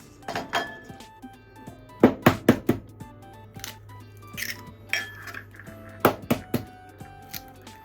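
Eggs roughly stirred into oil-glossed cabbage in a pan for a cabbage galette, with a run of sharp knocks and clinks of a utensil against the pan in uneven bursts over a low steady hum, no talk.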